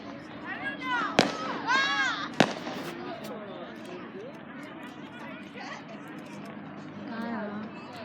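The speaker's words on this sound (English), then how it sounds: "I'm gonna start back up when there are fireworks going off." Fireworks pop and crackle with whistling rises and sharp bangs at a distance, while a crowd chatters and people talk throughout.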